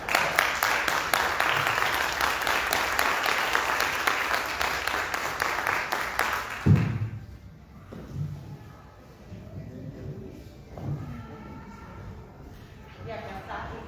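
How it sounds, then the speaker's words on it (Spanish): Audience at a community science gathering in Cogua breaks into dense applause that runs for several seconds, then stops abruptly, leaving a few scattered claps under quiet talk. "Si quieren, les damos un aplauso."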